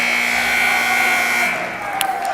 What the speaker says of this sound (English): And at the buzzer